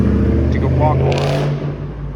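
A car engine revs on a city street in a residential neighbourhood, a loud close roar that rises and then settles into a steady low hum, with a voice speaking over it.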